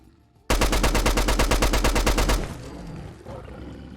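Fully upgraded STG-44 rifle in Fallout 4 firing a fast, loud, continuous burst of about two seconds, each rapid shot distinct, followed by a quieter rumbling tail.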